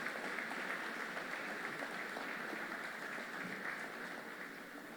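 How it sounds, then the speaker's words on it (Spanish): An audience claps steadily to welcome a speaker at an event, with dense, even applause filling the room and slowly fading toward the end. "Recibimos con un aplauso a Sergio Supo."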